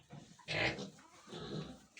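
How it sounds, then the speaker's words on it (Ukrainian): Pigs and piglets, including a young boar and sows, grunt and squeal close by in a village barn, two loud bursts of oinking separated by a short pause. "Залишили собі п'ять поросяток, кабанчика, там свинки"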